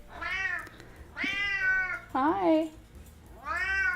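An indoor cat meows three or four times in close succession, drawn-out and fairly loud up close, with one rising-falling call in the middle; a person briefly greets it.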